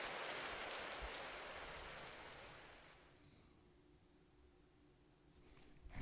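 Rain falls in the Trails through Daybreak video game as a soft, dense hiss. It starts fuller and fades gradually to a quieter wash, with no voices.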